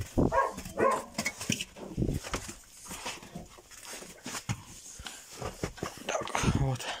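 Several hunting dogs whimper and give short barks while being fed, close by and busy, with someone talking over them throughout.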